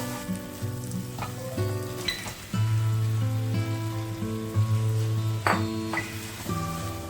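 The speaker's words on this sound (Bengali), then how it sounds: "এবার আমি চিকেনটা দিয়ে দেবো" Chicken frying in spiced oil, a continuous close sizzle that jumps louder partway through as the pieces go in, under a sustained tonal hum, with no talk.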